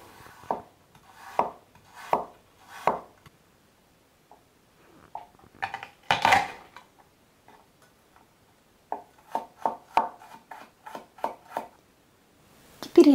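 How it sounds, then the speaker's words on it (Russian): Close knife mincing ginger and garlic on a board, first a slow run of taps, a pause with a scrape, then quicker bursts of mincing strokes. "Измельчаем имбирь и чеснок."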